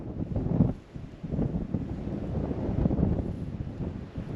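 Strong wind buffets the microphone on an exposed rock ledge at Blue Mounds State Park in Minnesota, producing a steady low roar with gusty surges throughout. No one speaks.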